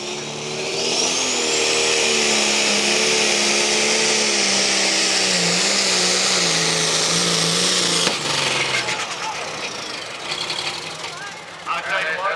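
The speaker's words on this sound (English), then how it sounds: "You can hear the engine flutter." A pulling tractor at a pull-off event roars loudly as its engine revs and strains for about eight seconds, then fades into a rougher, more distant rumble with crowd noise and voices talking over it.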